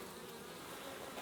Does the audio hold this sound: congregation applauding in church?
no